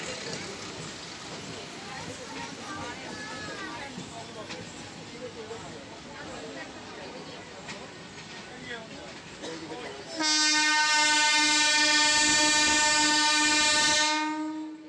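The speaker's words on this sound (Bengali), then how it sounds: "ট্রেন ঢুকছে এখন আরামবাগ স্টেশন।" A local train on the Tarakeswar–Goghat line pulls into Arambagh station, its rumble and clatter building under station noise before a loud, sustained horn blast sounds close by for several seconds.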